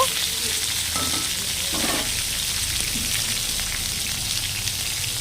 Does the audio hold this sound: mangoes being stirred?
yes